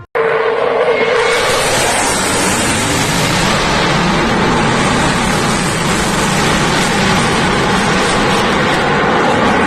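A fighter jet flying during a military drill gives a loud, continuous, broadband roar that holds steady for several seconds, with no voices.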